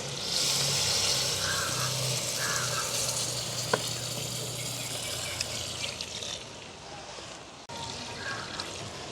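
Crab curry with coconut milk is stirred in a pot in a village kitchen, giving a close, continuous sizzle and bubbling with occasional scrapes of the spoon.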